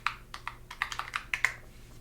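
About a dozen soft, close keystrokes on a computer keyboard in a quiet shop counter setting, tapped in a quick uneven run before stopping.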